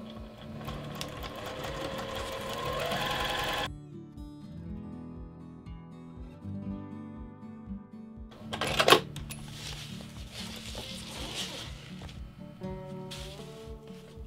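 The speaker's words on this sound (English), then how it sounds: "I usually prefer to top stitch down the sides of each one of my seams." A sewing machine topstitches down the side seams of a fabric bucket bag, running in steady bursts of rapid mechanical stitching with short pauses and a sharper clatter partway through, close and alone without voices.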